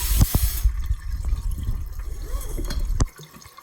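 A Costway mini washing machine drains its rinse water with a steady, close gush and gurgle that runs on for about three seconds, then cuts off and leaves only a faint trickle.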